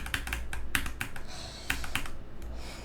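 Rapid mouse or key clicks while playing the game Acropolis, a quick irregular series of sharp taps up close, with short pauses between bursts.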